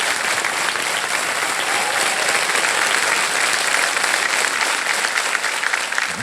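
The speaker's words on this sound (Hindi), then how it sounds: "एक बार तालियां बज जाए" Studio audience on a televised quiz show claps in steady, dense applause, loud and continuous throughout with no speech over it.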